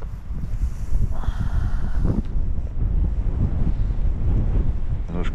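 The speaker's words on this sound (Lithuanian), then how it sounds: "Vėjas čia tikrai ne iš pačių maloniausių ir ne iš tų, kur labai padedam čia." Wind gusts across a frozen lake during ice fishing near the Latvian border, producing a constant loud rumble and buffeting against the microphone with no one talking.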